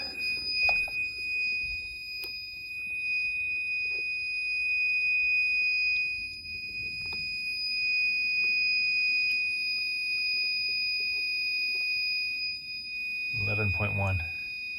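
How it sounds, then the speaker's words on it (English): A battery low-voltage alarm sounds a continuous, shrill electronic tone that holds steady throughout, with a brief burst of a voice near the end. "Okay, the alarm's going off."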